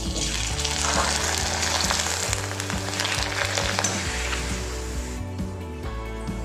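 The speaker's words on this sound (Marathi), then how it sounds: "तर मी तुम्हाला आता तांदळाची पापडे तळून दाखवते बघा।" Rice papads fry in a kadhai of hot oil, a loud, dense bubbling sizzle that crackles steadily and then thins out toward the end, with no talking.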